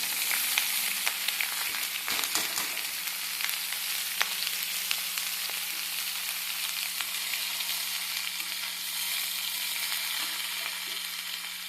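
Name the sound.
vegetables frying in hot oil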